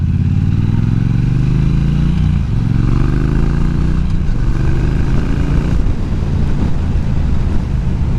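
A British motorcycle engine runs loudly and close by for the whole stretch, its revs rising and falling, with wind buffeting the microphone and no talking.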